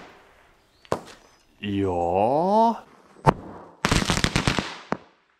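Firecrackers set off on a carpet go off in sharp close bangs, single cracks followed by a rapid crackling burst of pops, with a voice speaking briefly between them.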